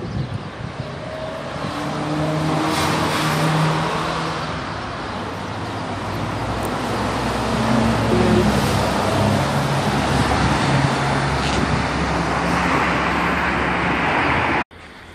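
Steady road traffic on an empty street during a business shutdown, with vehicles rumbling past in overlapping waves that swell and fade, continuous and moderately loud before cutting off at the end.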